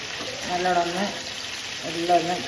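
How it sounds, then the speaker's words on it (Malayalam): Chicken frying in a pan of hot oil, giving a steady close sizzle throughout, with a person's voice heard twice over it in short stretches. "നല്ലോണം പൊരിഞ്ഞ് വരുന്നുണ്ട്. ഇപ്പൊ ഒന്ന് പൊരിയട്ടെ."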